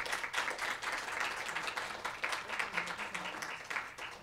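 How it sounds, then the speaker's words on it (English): An audience at a university women's leadership event applauds a guest, a soft, steady patter of many hands heard from a distance and sustained throughout. "let's give her our first round of applause"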